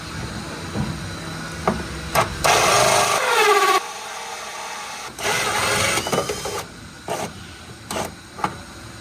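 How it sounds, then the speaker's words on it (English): A power drill bores through a boat hull in loud bursts, grinding and whining between pauses, close up with scraping and knocking. "I'm about to drill a hole for the ram fill water to actually exit the boat when draining"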